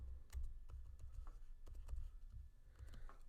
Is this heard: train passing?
no